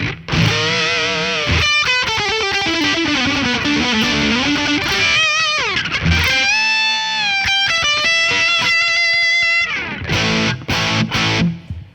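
Electric guitar through a Behringer OD300 overdrive pedal, drive at 12 o'clock, plays a sustained, gritty lead line with bends and held notes, loud and close, ending in a few choppy stabs.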